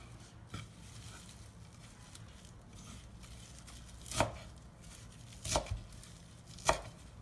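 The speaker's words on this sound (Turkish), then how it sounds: "Şimdi maydanozlarımı doğramaya geçiyorum." A knife chopping parsley on a board, a few faint sparse knocks, quiet and close, with four spaced cuts standing out over low background noise.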